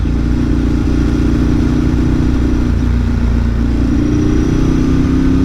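A motorcycle rides along a road riddled with speed bumps, its loud engine droning close and continuously with a rough, low rumble. Individual bumps are not clearly distinct.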